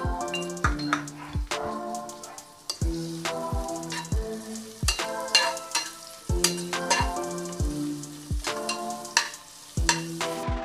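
Onion frying in ghee for Kerala-style ghee rice, heard as bright sizzling broken by a run of sharp metallic clinks and scrapes of a spoon against the pan, close up with no talking.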